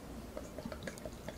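Samuel Smith Imperial Stout beer being poured, faint soft gurgles and drips in an irregular patter, quiet and brief with no talking.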